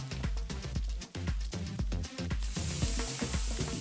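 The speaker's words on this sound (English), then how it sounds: "Hear that sizzle? We want to create an even sear on each piece of fish." Fish for tacos sears in oil in a hot pan, giving a bright hissing sizzle beneath a thumping rhythmic music track, with the crackle growing louder and more prominent toward the end.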